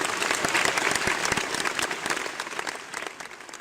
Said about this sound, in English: let's give these boys a round of applause before the competition begins